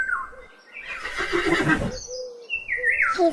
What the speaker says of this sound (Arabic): حصان.